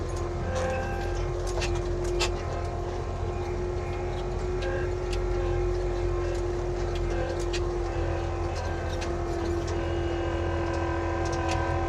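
Avant compact loader hauling and spreading gravel on a construction site, a steady loud engine drone with a constant hum, running continuously with scattered clanks and scraping on top.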